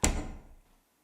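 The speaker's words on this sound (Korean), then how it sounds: "문을 닫기 시작했다" A door closes with a single close, solid thunk that quickly fades into silence, with no voices around it.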